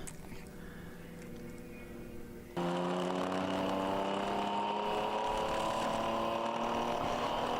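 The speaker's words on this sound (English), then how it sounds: "just listen to that engine" A ChampCar endurance race car's engine drones steadily with clear harmonic tones, suddenly jumping louder and holding a high, sustained whine as it passes close.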